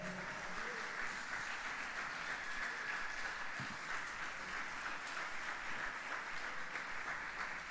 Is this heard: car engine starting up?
no